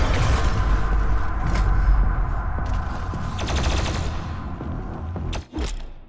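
Fresh weapon fired in DOOM Eternal, with loud, steady rapid gunfire over a deep rumbling game backdrop for several seconds, a few sharper blasts standing out near the end.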